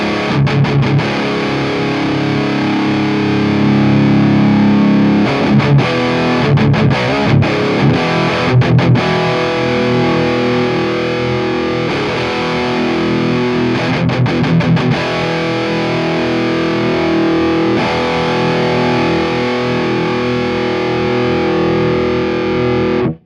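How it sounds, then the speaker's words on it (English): A continuous saturated, distorted electric guitar tone through an Orange Rockerverb 50 MkIII tube amp rings out, thick and sustained, with a few choppy strummed bursts in the middle. "there's a real subtle increase in saturation when you dial up the reverb pot without having it engaged"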